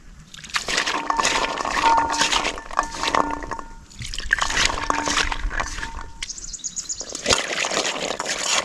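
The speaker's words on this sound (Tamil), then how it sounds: "இதை மட்டும் தண்ணி ஊற்றி நல்லா அலசிடுவோம்" Water is poured and sloshed to rinse freshly dug kotti kilangu tubers, giving close, uneven bursts of splashing and trickling separated by brief pauses.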